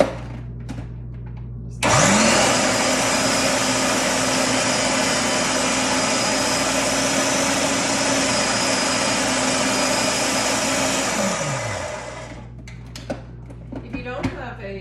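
A loud food processor shreds white and purple cabbage, the motor spinning up abruptly into a steady high whine for about ten seconds before winding down, with a voice speaking around it.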